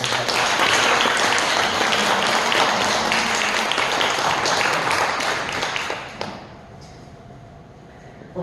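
A church congregation applauds together at a Sunday service, a loud, dense burst of clapping that holds steady for about six seconds before dropping off sharply into quiet room tone.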